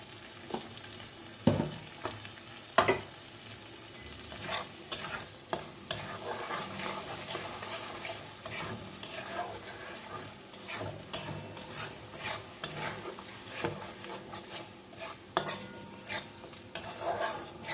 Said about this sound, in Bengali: আঁচটাকে সিম করে দিয়ে ওই যে কষা হচ্ছে এখন